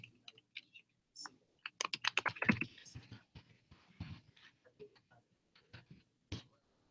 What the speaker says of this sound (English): type your question.